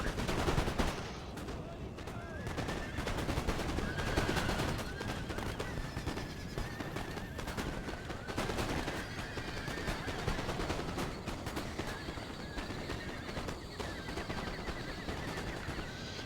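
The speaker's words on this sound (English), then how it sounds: "We're under fire." Battlefield gunfire in the strategy game Empire: Total War, a steady crackle of musket volleys going on for the whole stretch, with horses whinnying and some faint tonal sounds over the din.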